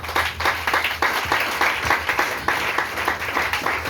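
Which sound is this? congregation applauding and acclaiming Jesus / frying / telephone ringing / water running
congregation applauding and acclaiming Jesus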